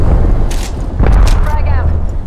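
An arc star grenade goes off in the Apex Legends battle royale game. A short, deep boom lands about a second in, with voices talking around it and low rumble beneath.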